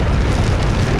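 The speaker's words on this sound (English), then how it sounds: "And now we start the thrusters." Spaceship thrusters firing up in a video game built with Unreal Engine and Wwise: a dense, steady roar heavy in the low end, sustained at constant loudness for the full second with no voices.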